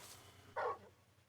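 A single short dog bark from the video game Final Fantasy XVI, a quick burst over a low steady game hum, moderately faint.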